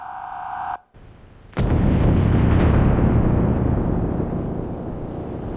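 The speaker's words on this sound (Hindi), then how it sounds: "जोरदार धमाके की आवाज और चारों तरफ सिर्फ काले धुएं का अंबार" A steady tone cuts out, then a loud, deep explosion bursts out and rumbles on as a sustained roar.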